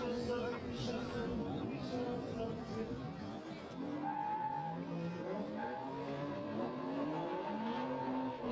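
Two drift cars start a run at a 2015 drift event in Vidin, their engines droning and tires squealing steadily in the background under continuous commentator speech.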